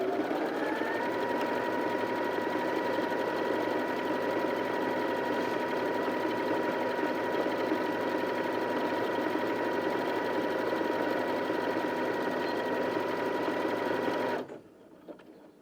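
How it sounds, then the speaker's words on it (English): Janome Sewist 780DC sewing machine stitching a full decorative pattern, a steady loud mechanical whir running continuously for about fourteen seconds before stopping abruptly. "you can press this one and it will finish a whole pattern before it stops sewing"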